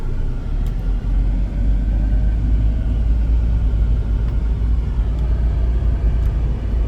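A 1998 Mercedes-Benz V230 W638 van pulls away and drives, heard from inside as a steady low engine and road rumble, with no voices and a few faint ticks above it.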